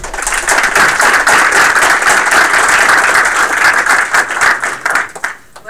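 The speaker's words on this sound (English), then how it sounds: "Wow, another round of applause." Audience applause at a game studio build review, a dense and loud burst of clapping that holds steady for several seconds and then fades out.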